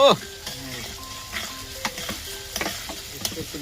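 Onions frying in oil in a pan on a home wood-fired stove, a steady close sizzle with scattered clinks and scrapes from stirring, no voices.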